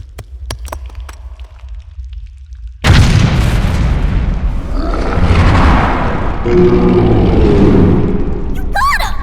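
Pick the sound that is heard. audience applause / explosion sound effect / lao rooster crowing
explosion sound effect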